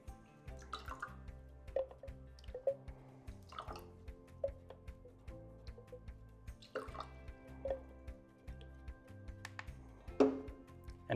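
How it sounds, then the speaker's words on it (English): Water dripping and trickling as a conductivity meter is rinsed during boiler water testing, scattered close drops and small splashes over a low steady hum. "Again, you will triple rinse your meter."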